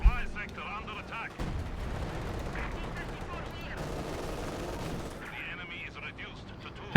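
Panther tank cannon fire and other battle gunfire in the strategy game Company of Heroes 2 rumble under a commentator's continuous talk, with several heavy thuds over a dense combat bed.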